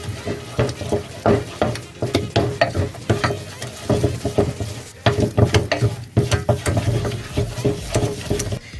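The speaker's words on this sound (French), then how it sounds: "on mélange pendant 2 minutes sur le feu" Choux pastry dough being stirred in a pan over low heat, a steady run of scraping, slapping strokes with a faint sizzle underneath, close and fairly loud throughout.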